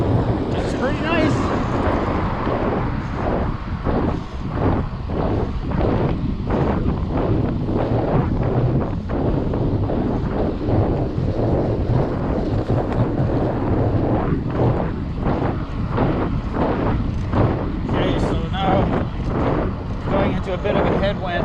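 Steady, loud wind buffeting a microphone while riding a bicycle into a morning headwind on a path, a continuous roar with gusty fluctuations throughout and occasional talk from the rider.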